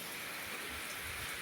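Heavy rain in Southern Leyte pours in a dense, continuous hiss of drops on surfaces, steady throughout with a faint low rumble underneath and no voices.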